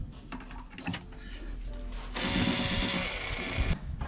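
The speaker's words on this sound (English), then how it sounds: "grab your number five bit, move everything out of the way, and just gently drill it out." A power drill with a number five bit drills out a broken nut on the side skirts of an MX5. A whining burst runs strongly for over a second after softer clicks and handling noises.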